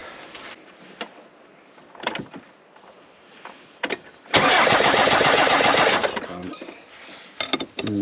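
A diesel engine fitted with a Bosch VE injection pump is cranked by the starter in one loud, steady grinding burst of about two seconds, preceded by scattered clicks and clunks of workshop handling.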